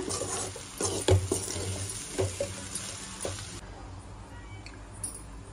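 Cut chapati pieces being stirred through masala in a pan for chapati noodles, with close scraping and clinking strokes at an irregular rhythm over a soft sizzle, fading quieter toward the end.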